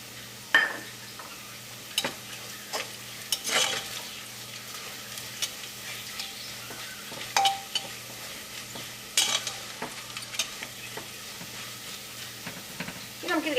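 Onions fry in oil in a pan for chicken biryani, a soft steady sizzle under occasional stirring scrapes and clinks of a utensil against the pot.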